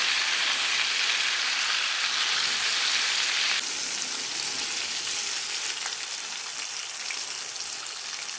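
Chicken for spicy fried chicken sizzles steadily in hot oil, a loud continuous hiss with small pops that brightens sharply partway through as a fresh batch goes in, with no talk.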